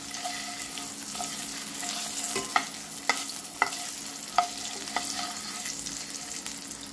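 Eggs fry in hot oil with a continuous close sizzle, broken by a series of distinct scraping clicks from stirring or turning in the pan, with no voices.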